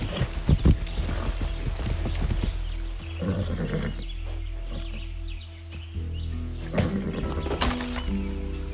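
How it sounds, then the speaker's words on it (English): A horse in the Far Cry 6 video game clip-clops along at a steady pace, and its hoofbeats blend with ambient game sounds and birdsong. The sound is moderate in level and carries no speech. "That's a good horse."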